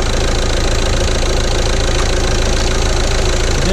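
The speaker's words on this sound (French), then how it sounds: "le moteur il est en marche, il a démarré" A diesel car engine idles steadily and loudly just after starting, with an even mechanical rumble and knock and no pauses or revving.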